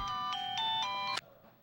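A phone rings in a tonal electronic ringtone pattern at fairly close range, then cuts off abruptly partway through, leaving a quiet room.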